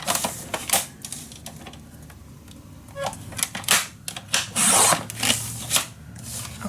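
Paper being cut for a scrapbook mini album, crisp snips and scraping strokes in irregular bursts at close range, with quiet pauses between cuts.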